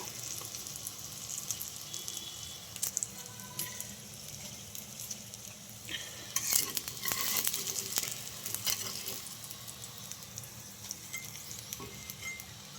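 Brinjal (eggplant) slices fry in hot oil with a steady, close hiss, while intermittent clicks and scrapes of a utensil in the pan come and go throughout.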